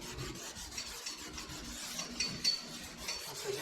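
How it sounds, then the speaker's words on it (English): Hand scuffing of glossy spots on a custom-made interior part for an M-1 Cobra car, a soft, quiet rhythmic rasping and rubbing in repeated strokes, with no talk. "So now I'm going to scuff this just to try to get some glossy areas flat."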